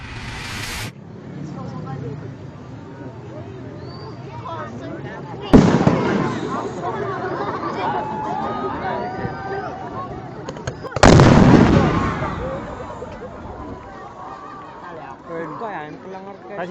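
Firecrackers explode close by in two sharp, loud broadband blasts a few seconds apart, with chatter and voices talking throughout before and after each bang.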